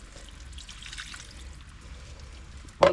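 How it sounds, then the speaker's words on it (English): Water poured into a pan of tagliatelle being steamed on the hob, a soft trickling stream running steadily, ending in a short sharp splash or clatter at the close, with no talking. "we're going to put another quarter of a pint of water in."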